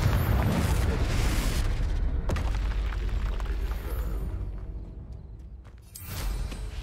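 A Confringo fire spell blast in Hogwarts Legacy, a heavy booming explosion with a rumbling roar that slowly fades, followed by a fainter second burst at the end.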